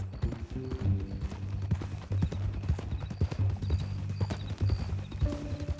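Rapid, rhythmic clip-clop of horse hooves in Red Dead Redemption 2 trots steadily throughout, with a faint whinny, layered over a low synthetic game background hum.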